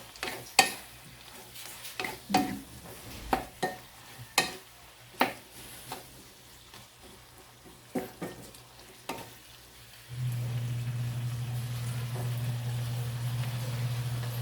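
Squid and broccoli are stir-fried in a pan, first with a series of sharp clacks and scrapes of stirring, then a steady, loud sizzle that takes over near the end.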